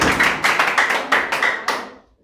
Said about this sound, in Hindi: बहुत जोर से ताली बजना चाहिए, गड़गड़ा जाए रूम